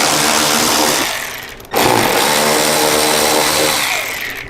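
A power driver whirs loudly and continuously, up close, as it backs out the side bolts of a motorcycle fairing windshield, with a brief dip in the middle before the motor spins up again.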